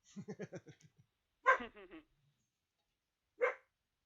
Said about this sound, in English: I told you I had a dog over here.